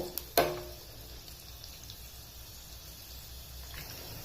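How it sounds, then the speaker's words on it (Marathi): Green chillies fry in hot oil in a home kitchen, a soft steady sizzle running throughout after a sharp clink near the start, quiet and close. "हिरव्या मिरच्या सुद्धा तळून घ्यायच्या"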